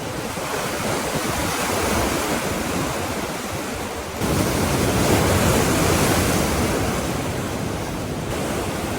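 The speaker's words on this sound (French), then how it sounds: "ça c'est une grosse vague" Big ocean waves crash and surge against volcanic rock on the Tenerife shore, a loud continuous roar of surf with a fresh swell building about midway, no voices.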